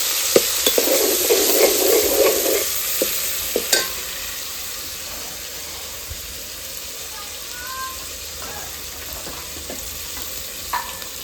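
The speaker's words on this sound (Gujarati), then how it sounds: "ભાઈ દાળ વઘારવાનું ચાલુ ચાલુ." Lentil dal being tempered in a pan with tomato added, a burst of loud sizzling and stirring in the first few seconds that fades to a quieter simmer, with faint kitchen clatter.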